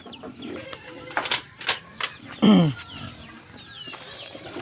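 Chickens cluck and squawk in short bursts at close range, with one louder, drawn-out squawk in the middle over a low background hum.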